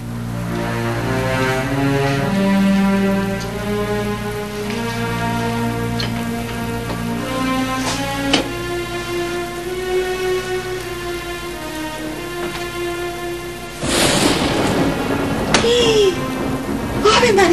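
A thunderstorm with rain breaks in near the end as a loud, broad rushing rumble with sharp cracks, after a long stretch of sustained music that continues beneath it.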